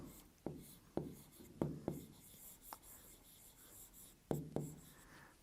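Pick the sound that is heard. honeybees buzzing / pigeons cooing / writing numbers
writing numbers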